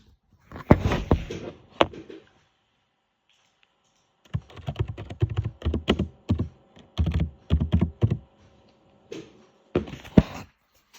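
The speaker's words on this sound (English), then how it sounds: "So if I'm going to type real Somali words like this" Somali words are typed on a computer keyboard in clattering bursts of rapid keystrokes, close and crisp, with short silent pauses between flurries.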